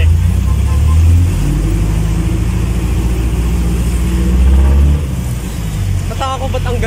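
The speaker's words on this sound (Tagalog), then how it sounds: "Nataka ko ba't ang ganda ng muffler ng ano?" A car engine rumbles and revs through its muffler, a loud low drone that swells twice and then eases off, while people talk nearby.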